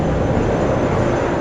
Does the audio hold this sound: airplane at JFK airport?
yes